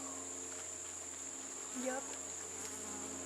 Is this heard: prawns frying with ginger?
no